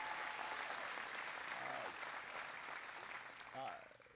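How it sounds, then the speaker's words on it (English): Audience applause at a presidential speech on manufacturing innovation, steady and sustained crowd clapping filling the room, with a voice speaking over it near the middle and again toward the end. "Give him a big round of applause."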